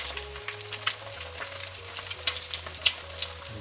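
Eggs fry in bacon fat in a pan, seasoned with salt and pepper, giving a steady close sizzle broken by sharp pops and crackles. There is no talking.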